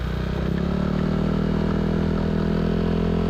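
A motorcycle with a Villan SR1 exhaust and a VVA engine is held near 5,000 rpm, a steady, loud, close drone with a slight rattle and no pauses.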